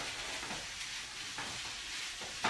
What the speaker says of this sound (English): You can probably hear the sizzle of the onions already starting.